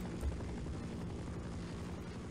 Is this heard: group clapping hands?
no